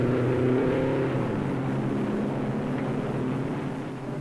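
A Novi race car engine at the 1957 Indianapolis 500 gives a steady droning roar that eases slightly as it fades, heard alone on an old recording.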